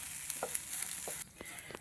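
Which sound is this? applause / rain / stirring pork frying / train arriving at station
stirring pork frying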